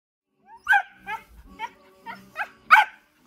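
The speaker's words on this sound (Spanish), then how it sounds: "¿Cómo se llama el perro?" A dog on a rural property in Zacatecas, Mexico, barks and whines several times, short bursts coming close together, with faint talking in between.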